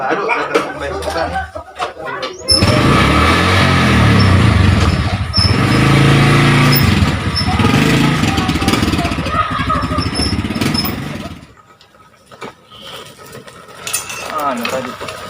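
An old motorcycle pulls up close and loud, its light engine running and revving steadily for several seconds before it drops away, with people chatting and laughing outdoors around it.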